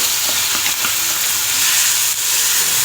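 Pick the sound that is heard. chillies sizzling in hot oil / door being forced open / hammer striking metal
chillies sizzling in hot oil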